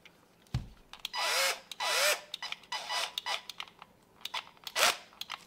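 A small drill with a 2 mm bit bores out a soft 1.6 mm screw thread on an HP mounting-screw part, giving several short whirring and grinding bursts, close and fairly quiet, with no talking.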